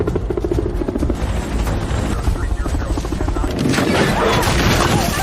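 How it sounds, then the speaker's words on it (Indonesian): A helicopter's rotor thrum and engine roar fill the scene, loud and close, with a heavy rumbling layer that swells toward the end. "helikopter mau tidak mau harus terbang dekat dengan bebatuan"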